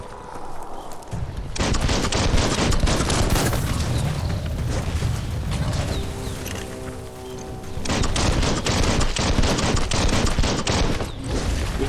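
Gunfire in the video game Biomutant, loud bursts of rapid automatic shots in two long volleys separated by a stretch of rumbling combat noise.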